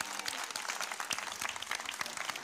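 A church congregation applauds together during a worship service, a dense, steady wash of many hands clapping close by, with a few voices faintly mixed in.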